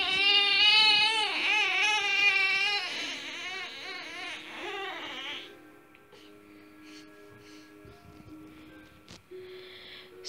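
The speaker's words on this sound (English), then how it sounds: "I'm sorry if you can hear any crying" A young daughter cries at bedtime while being settled to sleep, loud wailing sobs with gasps for the first five seconds, then fading to quieter whimpers and faint room noise.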